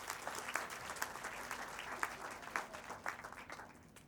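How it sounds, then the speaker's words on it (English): A conference audience at a MOOC alumni summit applauds the Teachers Learning Action Guild in Cambodia. The clapping is steady and fairly soft, with individual claps popping out now and then, and it tapers off toward the end. "please give them a big round of applause."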